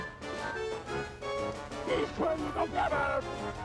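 Dog barks and yips in the Chibi-Robo video game, a string of short mid-pitched cartoonish barks with whimpering tones, fairly loud over busy game music.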